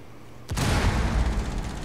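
A grenade goes off in a video game, a sudden loud boom after a quiet moment, followed by a rumbling, crackling tail with scattered pops that keeps going to the end.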